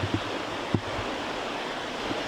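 Constant broadband rush of flowing water near hot springs pools along a rocky trail, steady and fairly close, with a couple of faint thumps and no talking.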